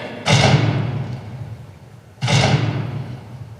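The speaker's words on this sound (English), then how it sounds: "closed the door with a bang" A door in an old house is slammed shut twice with heavy, booming bangs, each a loud thud followed by a brief rumbling decay, about two seconds apart.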